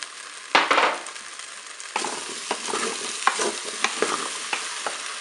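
Pepper strips tossed into a sizzling Cookeo pot: a thump as they land, then a steady frying sizzle with spoon scrapes and clicks as they are stirred, close and without talk.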